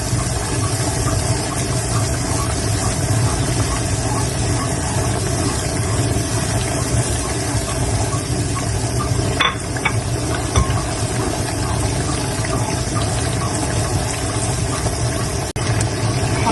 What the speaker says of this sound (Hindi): इसको 1 मिनट के लिए भून लेंगे